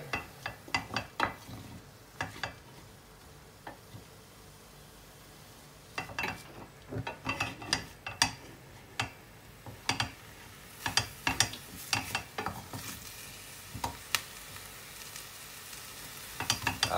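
Grated coconut and moringa leaves fry in a pan, giving a steady sizzle broken by repeated scraping and clinking strokes of a stirring utensil.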